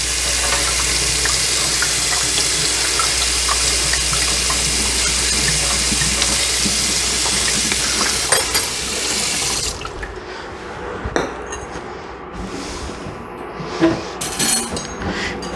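Tap water runs steadily into a container for a cornstarch slurry, a loud, continuous gush for about ten seconds, then the flow stops and light clinks and small handling sounds follow.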